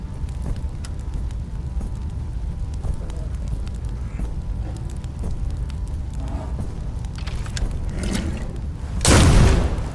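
A fire flask bursts in the PC strategy game Crown Wars: The Black Prince, a loud short whoosh near the end of the clip over a steady bed of game ambience.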